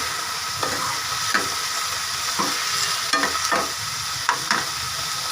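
Onions fry in a pan for shahi paneer with a steady bright sizzle, punctuated by repeated scraping stirs and spatula taps at an irregular rhythm, close and alone without talk.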